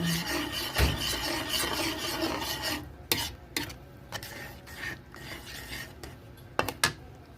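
A utensil stirs spicy tofu sauce thickened with flour in a pot, with scraping and rasping strokes, then a few sharp clinks against the cookware.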